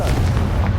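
A Confringo fire spell explodes in Hogwarts Legacy with a single loud, deep boom that rumbles briefly in the low end, close and heavy, with no voices over it.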